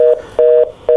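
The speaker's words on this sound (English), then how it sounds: "I think we got a phone call coming in here." A telephone line tone rings in repeated steady beeps, three bursts in about a second separated by short gaps, loud and clear with no talk over it, as a call comes in on a radio show hotline.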